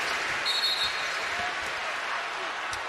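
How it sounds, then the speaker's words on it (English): Crowd at a basketball game cheers in a broad, steady roar, with a commentator's voice running over it. "Crowd has come to life."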